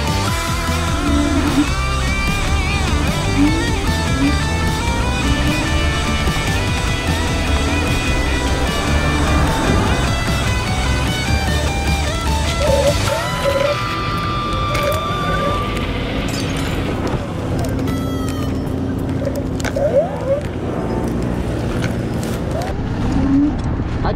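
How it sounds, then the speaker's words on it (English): Dense Los Angeles street traffic, with car engines idling and vehicles passing continuously up close; a steady loud rumble runs throughout, with a brief shift in texture around midway. "Look at all this fucking traffic."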